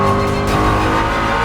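A Ford Mustang GTD race car roars loudly past on a track, its engine note steady and close with a harsh, dense rasp.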